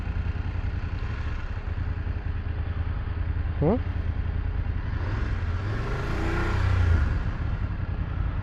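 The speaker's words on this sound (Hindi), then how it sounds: "भाई गजब का ट्रैफिक हो गया यार" Heavy road traffic on the ride from Varanasi to Kolkata, with a steady rumble of cars and motorcycles, an engine revving up near the middle and a louder pass of vehicles toward the end.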